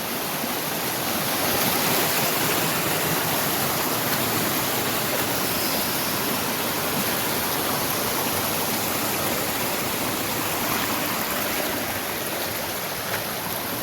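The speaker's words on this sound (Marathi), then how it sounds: "पाणी बघा किती आहे नदीला वरून वाहून येते इथे" Continuous loud rush of a monsoon-swollen river in Kokan, Maharashtra, broad and steady throughout with no voices.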